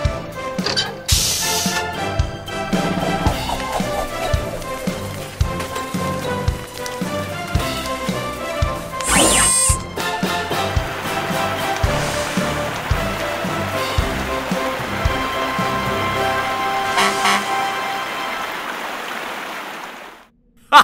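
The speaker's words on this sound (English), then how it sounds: "Let's get your tenders hooked up to our water pumps" Cartoon water pumps spraying water during a Thomas & Friends fire rescue, a loud rushing spray with splashes set against an orchestral music score, with no talk.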